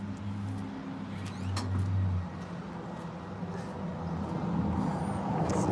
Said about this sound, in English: It's this loud truck right now.